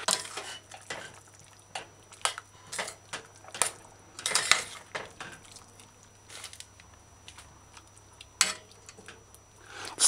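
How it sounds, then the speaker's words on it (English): A spoon scrapes and clinks against a pot as salt and seasoning are stirred into a Jamaican liver brown stew, with irregular metallic taps and soft wet squishes, fairly quiet and without talk. "Stir it in, stir it in."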